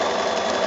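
A sewing machine runs steadily and close up as it stitches binding around the edge of a quilt. The motor makes a brief, continuous whir.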